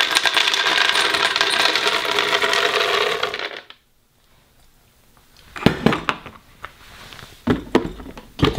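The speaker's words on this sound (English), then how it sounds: "we're going to go ahead and add the almonds" Hard almonds pour into a Vitamix or Blendtec blender jar with a dense rattling clatter for several seconds. After a short silence, a few sharper clinks and knocks follow, close and loud.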